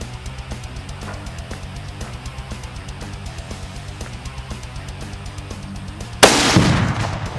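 A gunshot fired at a houseplant in a bucket: a single loud, sharp blast near the end, following a steady low mechanical rumble with faint regular ticking.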